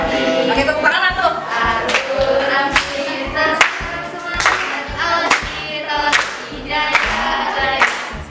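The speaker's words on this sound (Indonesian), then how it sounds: "Pakai tepuk tangan tuh." Group of students in a classroom clapping hands in a repeated rhythmic pattern, sharp synchronized claps in clusters, close and fairly loud, with some voices chanting along.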